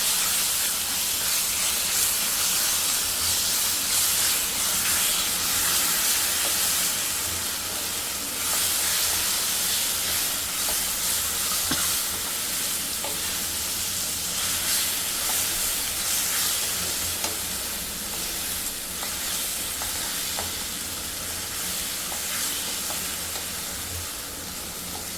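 Rice with grated raw mango is stirred in a hot pan, giving a continuous loud sizzle and hiss with faint scraping of the spoon throughout.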